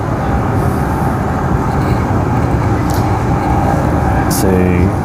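A six-car Mandurah Line train departing from Mandurah toward Perth Stadium, a loud, steady, close rumble of running gear and motors that builds slightly near the end.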